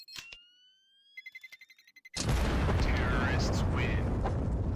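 A Counter-Strike bomb detonates: rapid accelerating beeps of the planted charge give way to a sudden loud, broad explosion roar that rumbles on to the end, with a commentator's voice faintly audible earlier.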